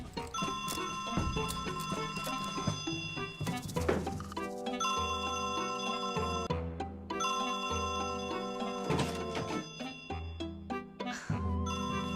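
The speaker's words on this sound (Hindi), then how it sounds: "फोन बज रहा है।" A tonal electronic ringtone chimes in a repeating melodic pattern, loud and steady, cycling for several seconds.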